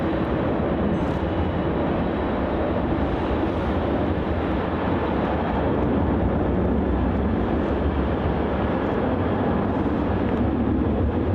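A Singapore Airlines Airbus A350 taxis toward the end of runway 34 at Melbourne Airport, a continuous loud engine rumble and hiss, steady and unbroken from start to finish.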